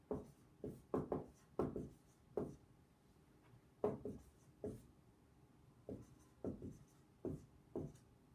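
Marker or chalk writing on a board during an algebra lesson: bursts of short scratchy strokes in clusters with pauses between, close and fairly quiet, no talking.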